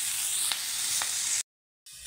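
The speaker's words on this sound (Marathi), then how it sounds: "व्यवस्थित असं परतवू।" Cauliflower bhaji is stirred and sautéed in a hot pan, a continuous close sizzle broken by two quick scraping strokes of the spatula, followed by a short silent gap and the frying hiss returning.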